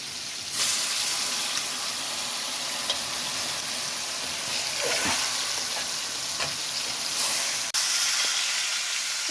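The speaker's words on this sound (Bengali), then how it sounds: "এখানে সবগুলো আমি ভেজে নিচ্ছি।" Ginger garlic paste fries in a pan with a continuous loud sizzle and hiss, broken by a few faint clinks of stirring.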